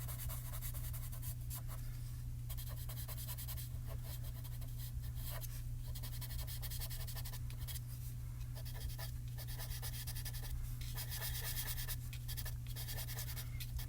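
Colored pencils scratch and rub steadily across paper while coloring in lily pads on a stamped bridge drawing, a close, continuous scratchy texture with short strokes and brief pauses, over a constant low hum.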